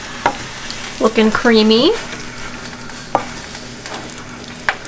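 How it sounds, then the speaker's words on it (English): Wooden spoons stirring thick, creamy ube halaya in a pot, soft scraping and thick squelching strokes. A voice speaks briefly near the middle, with a couple of sharp clicks of spoon against pot. "So we gotta get some wooden spoons and stir it in there."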